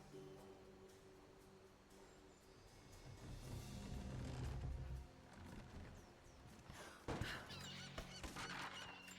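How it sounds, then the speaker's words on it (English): Seagulls calling in the video game Rise of the Tomb Raider, faint honking cries over a low, rumbling game ambience, growing a little busier toward the end, with no voices. "Sorry, seagulls."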